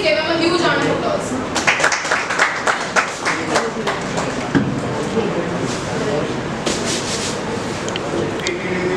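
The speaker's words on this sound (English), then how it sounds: "Please give him a huge round of applause." A round of applause from an audience at a seminar on intellectual property management for startups, steady close clapping over the whole stretch with a voice speaking over it.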